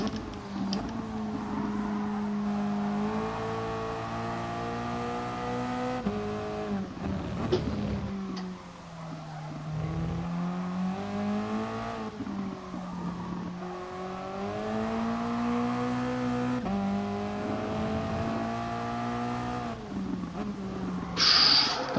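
A Toyota race car engine in a racing game practice session at the Brazil circuit drones continuously, its pitch rising and falling through gear changes and throttle lifts, steady and loud for the whole stretch without talk.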